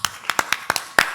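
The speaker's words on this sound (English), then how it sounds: "Amira, I want to applaud them." A short burst of applause at a closing session of a multi-day event: about six or seven distinct sharp claps in a loose, uneven rhythm, fairly close and moderately loud, with no talking.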